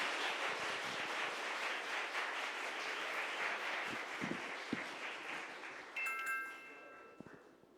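Audience applause welcoming Hanmin High School's Sprite team at a Gyeonggi regional contest, sustained dense clapping for about six seconds before tapering off, with a few louder individual claps near the end.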